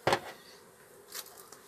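Honeybees at the first opening of the year's hive, a few individual insects buzzing close past with a sharp loud burst at the start and a fainter buzz later, over quiet background.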